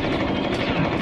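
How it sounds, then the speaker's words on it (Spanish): A helicopter approaching in a video game, its steady, heavy rotor roar loud and close throughout, filling the whole stretch without a break. "Viene un helicóptero."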